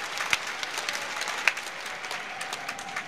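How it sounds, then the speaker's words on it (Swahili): A crowd at a regional gathering in Dar es Salaam claps for the Prime Minister, sustained applause with a few sharper individual claps standing out, heard from a moderate distance. "Naomba tumpigie makofi mengi sana Mheshimiwa Waziri Mkuu"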